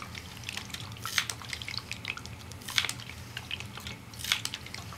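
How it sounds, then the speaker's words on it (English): Water trickling and dripping through an MSR Miniworks EX filter into a reservoir, with close, irregular drips and small liquid plinks, a few louder splashes standing out, no one speaking. "water is coming through here and starting to fill the reservoir. And we're starting to get water filtration."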